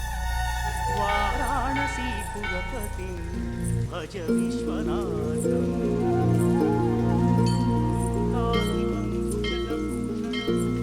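Steady rain in a Tamil action drama scene falls continuously throughout, a constant wash under loud music and people speaking.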